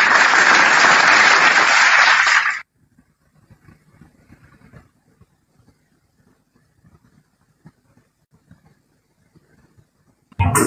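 Audience applause at an Indonesian religious talk, loud and dense for about two and a half seconds before stopping abruptly, then near silence with faint rustling, and a brief burst of clapping returns at the very end.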